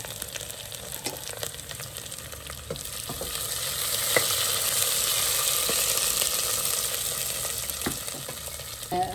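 Garlic, onion and green chilli sauté in a pan, giving a steady broadband sizzle with scattered clicks and scrapes of stirring throughout, with no voices.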